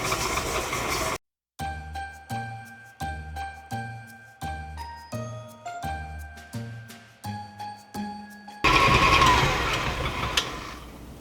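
An electric mixer whirs loudly as it creams cookie ingredients together in a bowl, starting abruptly near the end after a bright, plinking musical jingle.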